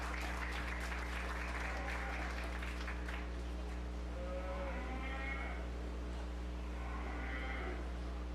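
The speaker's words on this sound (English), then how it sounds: "let's give these kids a round of applause" Applause at a 4-H fair beef show, clapping in the first few seconds over a constant low hum, then fading, with cattle lowing and bleating-like calls heard afterward.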